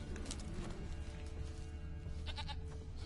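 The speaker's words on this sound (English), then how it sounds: "I can hear a goat." A goat bleats in the video game The Witcher: Wild Hunt, a couple of short wavering bleats toward the end rising over a loud, dense rumbling background of game ambience.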